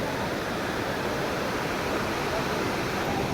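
A steady, loud roar of falling water from a waterfall at Courtallam, rushing without pause, a dense, even wash of noise close by.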